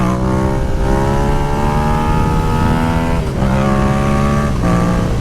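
A Yamaha R6 600cc sportbike or FZ-07/MT-07 middleweight naked motorcycle engine revving hard while riding, a loud, close, continuous high-pitched wail with rising pitch and a brief shift dip.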